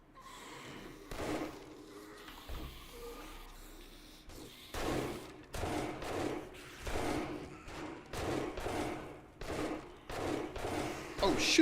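Gunfire in the survival video game 7 Days to Die, a run of sharp shots in irregular bursts that grow louder and denser toward the end, with a few quieter gaps between volleys.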